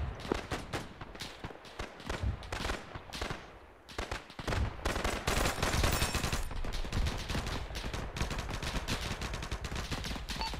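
Bursts of rifle and machine-gun fire from a WWII-era Operation Torch mission in the military shooter ArmA 3, rapid cracks and rattling volleys stacking up nearly nonstop, loud and close with a brief lull before the firing swells again.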